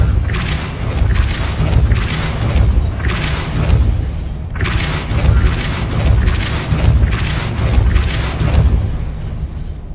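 Depulso force spell cast in Hogwarts Legacy, heard as loud, repeated bursts of booming, shattering impacts with a heavy low rumble, in two long waves.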